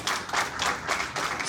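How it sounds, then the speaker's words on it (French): An audience at a speech in the Alpes-Maritimes applauds Charles Ginesi, with dense clapping swelling in quick rhythmic waves and no voices over it. "je vous demande d'applaudir Charles Ginesi"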